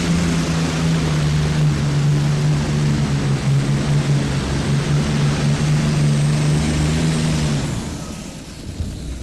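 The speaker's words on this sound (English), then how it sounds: "right there for the Allison aircraft engine" A pulling tractor powered by an Allison aircraft engine at a farm machinery show drones loudly and steadily at full power for about eight seconds, then cuts off abruptly, with no talk over it.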